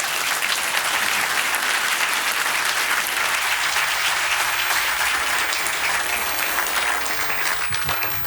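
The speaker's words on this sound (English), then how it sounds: "let's give them a round of applause real quick" A room of people at an author talk applauding, dense and loud continuous clapping that holds steady before easing slightly at the end, with no voices over it.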